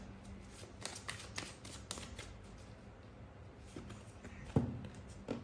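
A deck of playing cards is shuffled up close in a quiet room, with soft riffling bursts and flicks spread across several seconds and a sharper snap near the end.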